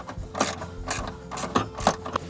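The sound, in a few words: screws being put back into a car radio mount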